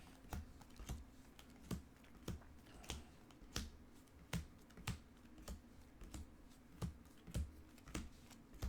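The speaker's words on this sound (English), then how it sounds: "I'm going to do some poor man's shuffling here." Playing cards shuffled by hand in piles for a tabletop game, giving a quiet, regular run of crisp snapping taps about every half second.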